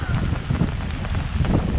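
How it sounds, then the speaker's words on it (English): Strong wind in UK woodland during pouring rain at a wild camp, a dense, continuous roar of gusts and rain battering the microphone, loud and close with no let-up. "The weather's really coming in bad now, like it's absolutely pouring down, it's dead windy."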